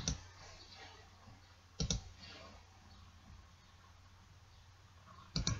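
Sparse computer mouse clicks, three sharp close clicks spaced a couple of seconds apart, over quiet room hiss.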